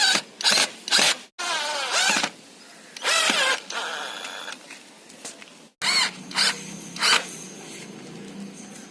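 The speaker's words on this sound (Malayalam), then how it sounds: "ഇപ്പോൾ കാണുന്നത് പോലെ മുകളിൽ നിന്നും താഴേക്കും ഈ ടയറിനെ സ്ക്രൂ ചെയ്ത് ഉറപ്പിക്കണം" Power drill driving screws through an old tyre into a frame, several short high-pitched whirring bursts separated by pauses, close and loud.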